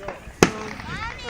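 A single sharp fireworks burst from an around-the-world show, a loud boom near the start, then crackling fizz and whistling trails as voices exclaim over it.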